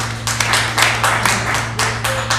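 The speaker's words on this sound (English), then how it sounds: "Every black person in this room clapped and raised their hand." Audience members in a comedy fundraiser room clap together in a short burst of scattered handclaps, steady over a low hum, with no talking.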